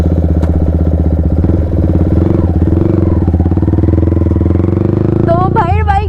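A Yamaha R15 V4 motorcycle ridden on a Sunday road ride, its engine giving a steady, loud droning hum throughout, with a rising whine near the end and people talking over it.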